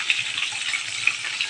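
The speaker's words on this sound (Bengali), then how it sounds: "মাছগুলো ফ্রাই হোক" Mixed sea and pond fish, including small hilsa, fry in a pan with a steady hissing sizzle and faint popping crackles, close and alone.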